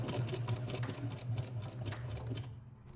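A sewing machine stitches a seam while making fabric bows, a fast steady mechanical whirring with rapid needle ticks, close and loud, stopping at the end.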